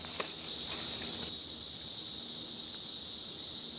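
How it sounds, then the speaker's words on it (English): Cicadas buzz steadily outdoors in a high, continuous drone that holds at a constant loudness throughout, with no talking. "Y'all hear the cicadas?"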